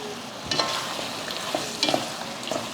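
Fried paneer stirred into a thick pepper masala gravy in a pan, a short burst of soft sizzling with several spoon scrapes and clinks at irregular intervals, close up, no voices.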